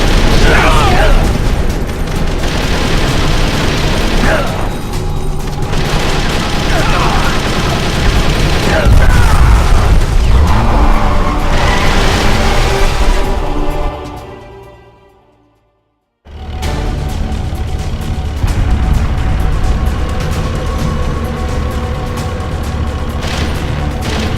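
Rapid, dense machine gun fire from the video game Metal Gear Solid: The Twin Snakes, loud and sustained with booms mixed in, cutting briefly to silence before the barrage resumes.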